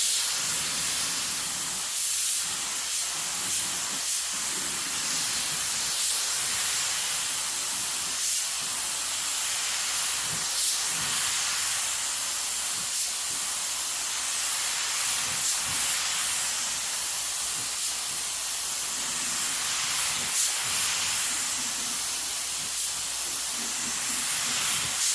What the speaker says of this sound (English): I'm gonna go ahead and spray another coat